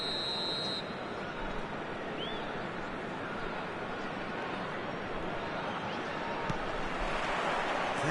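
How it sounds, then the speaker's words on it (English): A referee blows a sharp, high whistle at a live football match. The short blast sits over a constant, dense roar from the stadium crowd. "There's the whistle."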